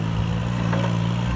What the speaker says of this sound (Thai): ย่ำนานะคะใช้รถไถย่ำเอาแบบนี้เลย